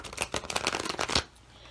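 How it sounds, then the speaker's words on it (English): A tarot card deck shuffled by hand makes a quick run of close, crisp riffling flutters that ends abruptly, leaving near silence. "I'm going to, shuffle on camera. I'm first going to use a tarot deck"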